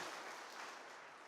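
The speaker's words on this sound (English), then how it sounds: "Keep clapping." A convention audience applauds after a union president's address, giving a continuous, even wash of clapping from a large crowd, faint and distant, with no individual claps standing out.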